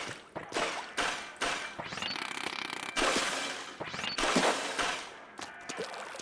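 Splatana Stamper weapon in Splatoon 3 revving and slashing with a chainsaw-like buzz, loud, dense bursts of mechanical grinding and splatting over about six seconds of busy game action.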